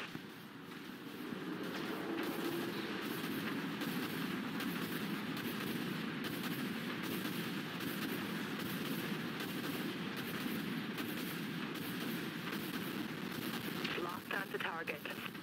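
Destroyer-class ship primary weapons firing in the Dreadnought space combat game, a dense, sustained rumble of heavy cannon fire with rapid rattling shots, loud and continuous, with voices talking over it.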